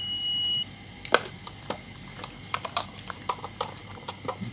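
A multimeter set to continuity gives a high beep while testing the thermal fuse of a Philips clothes iron that will not power on, followed by a string of sharp clicks and taps from the probes, close and quiet.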